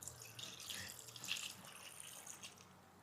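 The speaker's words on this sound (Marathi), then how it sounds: "आता याच्यामध्ये आपल्याला पाणी टाकून घ्यायचं आहे." Water is poured into a kitchen mixer jar holding grated coconut, a faint, soft trickling splash, quiet and close throughout.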